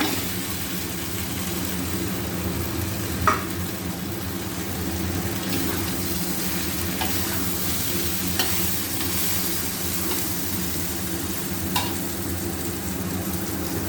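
A previously fried fish head frying in spice paste for muri ghonto, a steady close sizzle with a low hum underneath and occasional faint stirring clicks.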